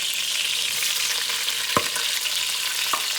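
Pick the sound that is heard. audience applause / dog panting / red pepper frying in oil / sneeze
red pepper frying in oil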